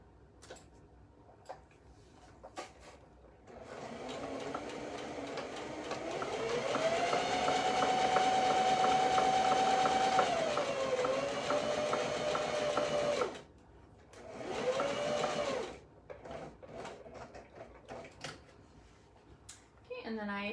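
A sewing machine stitches a bodice for a bow-back top in a steady whirring run that speeds up and holds, stops, then gives a shorter burst, with quiet talk before and after.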